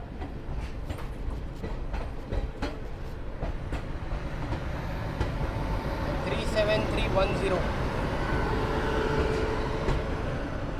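Heard from on board, the Chennai Garib Rath Express runs just after leaving Hazrat Nizamuddin with a continuous heavy rumble and irregular clickety-clack of wheels over rail joints, growing slightly louder, while voices murmur in the background.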